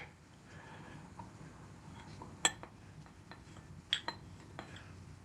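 Cornstarch stirred into Kirsch, a spoon clinking and tapping against a glass or bowl in a few scattered light strikes over a quiet kitchen background.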